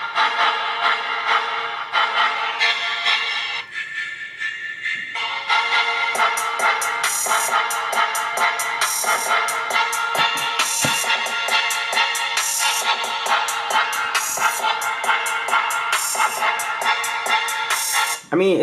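Audio plays through the single speaker of a Samsung Galaxy A22 5G phone, a steady, fairly loud stream of music with a thin, bright tone and short pauses between phrases.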